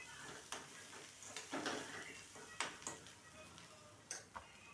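Potatoes being stirred with salt in a frying pan, with soft sizzling throughout and a series of light spatula scrapes and taps against the pan, spaced irregularly at close range.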